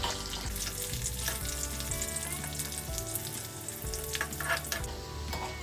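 Green chilies frying with garlic in a pan, a dense, steady sizzle and crackle close up throughout, with occasional light stirring noises and no talking.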